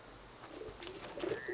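Pigeons coo softly in the video game A Plague Tale: Innocence, a few faint, low calls over a quiet ambient background.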